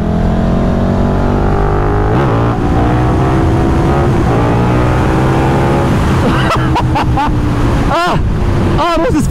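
A 2024 KTM 1390 Super Duke R EVO motorcycle accelerating hard on a race track, a loud, close engine roar climbing steadily through the gears, with quick revving shifts near the end.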